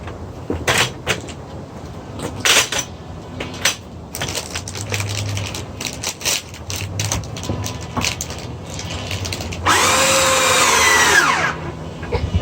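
Power drill driving a screw straight up into a sukkah wall brace, heard as several short whirring bursts with clunks and handling noise, ending in one longer, louder sustained drill run near the close.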